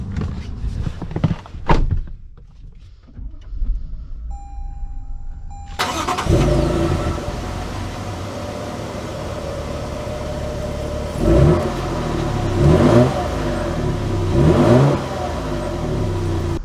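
A 2022 Toyota Tundra TRD Off-Road Extreme on 37-inch tires starts up after a few thunks and door sounds, settles into idle, then revs three times in short bursts, close and clear.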